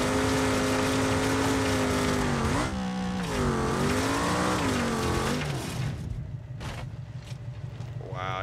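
A car engine in BeamNG.drive drones loudly and steadily, its pitch climbing and dipping as it revs through the gears before easing off into a quieter rumble with a few faint knocks.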